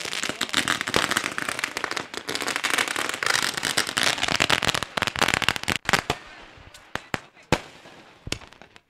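A string of firecrackers bursts during a cricket match, dense rapid crackling that thins out into scattered loud individual bangs toward the end, with no talking.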